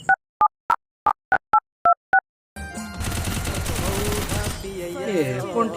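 A telephone keypad is dialed, about eight short, evenly spaced tones, before loud busy background noise with music and voices takes over.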